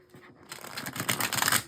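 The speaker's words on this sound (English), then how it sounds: "One more shuffle." A short, crisp riffle of tarot cards being shuffled, close and quick, building to a soft flurry of slaps before stopping.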